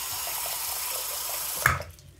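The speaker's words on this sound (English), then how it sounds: "Put a little bit of water in it." Steady broadband rush of tap water pouring into a plugged, clogged bathroom sink, continuous and fairly loud, then a clunk as the flow cuts off and fades.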